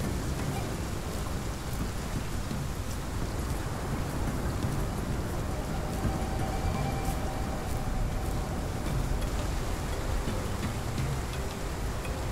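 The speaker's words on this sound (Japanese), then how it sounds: "雨も強いし風も強いな。" Heavy rain pours steadily with gusting wind in the dinosaur survival game Path of Titans, a dense, unbroken hiss that stays loud and even throughout with no clear talking.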